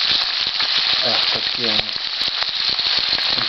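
Milk-cap mushrooms (gruzdi) sizzle in a frying pan with a steady, close crackle, while someone speaks briefly over the frying.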